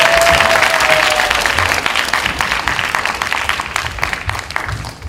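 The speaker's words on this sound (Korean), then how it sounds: "수고한 MC단에게 격려의 박수 부탁드립니다" Sustained applause from a church college-group audience for the MC team after a drama performance, a dense clatter of many clapping hands that tapers slightly toward the end, with a brief voice at the very start.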